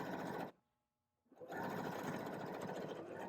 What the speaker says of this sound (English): add a top stitch, lay it on this denim piece, and sew the pocket closed